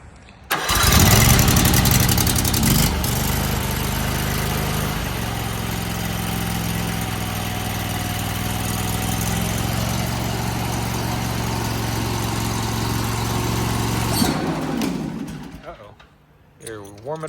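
A Predator 22 HP engine fitted to a Scag Turf Tiger zero-turn mower cranks and catches, then settles into a loud, steady idle close by before cutting off near the end.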